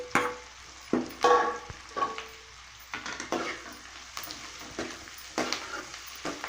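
Onions and crushed boiled potatoes fry in a pan for poori masala. A steady low sizzle runs under repeated bursts of a spoon stirring and scraping, all close up with no voices.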